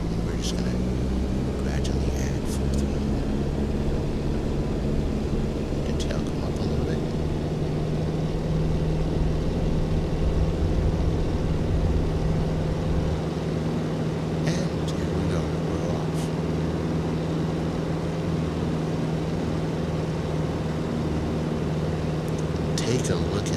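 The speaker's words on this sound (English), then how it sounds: "we're just going to gradually add full throttle" A light general-aviation aircraft in X-Plane 12 drones steadily as its engine runs up toward full throttle on the runway, a continuous close hum that holds throughout beneath a voice.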